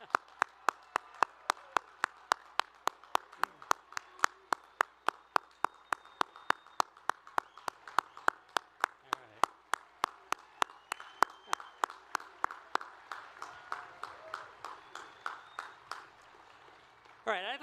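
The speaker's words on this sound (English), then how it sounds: "let's give one very loud round of applause for our newest Bradley alums" Graduates of Bradley University's engineering college are applauded at their commencement as steady, evenly spaced claps ring out close and crisp for most of the stretch, with a fainter crowd wash underneath.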